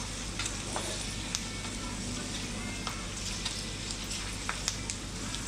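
Pork skin crackers frying in oil with steady, crackling sizzle and a low bubbling bed, interrupted by occasional sharper pops and light stirring clinks, continuous and close, with no talking.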